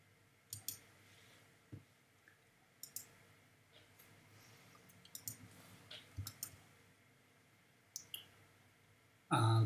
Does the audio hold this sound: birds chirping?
no